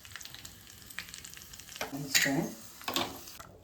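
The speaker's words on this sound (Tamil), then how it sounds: "முந்திரி போட்டிருக்கேன் கருப்படட்டும்" Cashews fry in a spoonful of ghee for milk payasam, giving a soft crackling sizzle with stirring scrapes that grow louder midway, close by and mostly alone.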